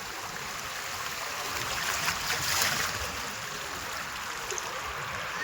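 Fast-flowing deep river water rushing steadily nearby, a broad continuous wash that swells slightly midway, with no voices.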